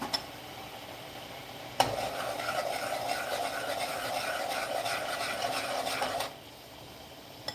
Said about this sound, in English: I'm letting the curry and the coconut cook.